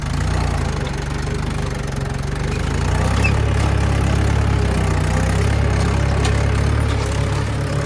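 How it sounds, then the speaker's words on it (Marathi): A tractor engine runs steadily close by while ploughing hard, compacted farmland in the rainy season, a loud, low, continuous rumble that thickens and grows heavier midway through. "कडकरण असल्यामुळे आपला हा जो ट्रॅक्टर आहे तर तो खूप हालत आहे"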